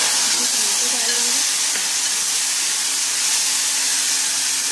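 Tomatoes cook on a medium flame in a pan for toor dal, producing a loud, steady, hissing sizzle that runs unbroken throughout.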